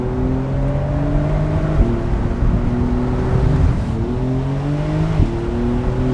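A Porsche 911 (992) cabriolet, 2022 model, pulls hard under full acceleration, a steady loud engine note climbing through the revs with brief dips at gear changes around two and five seconds, heard from inside the car.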